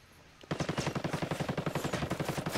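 Rapid automatic gunfire from the video game Ghost Recon Wildlands, near a church, begins abruptly after a quiet moment and continues as a steady, dense stream of loud shots for the rest of the clip.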